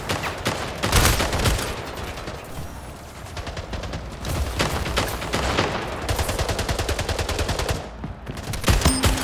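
Rapid automatic gunfire from the Splitgate shooter game rattles in long loud bursts with short pauses, mechanical clicks between volleys and a final flurry of shots.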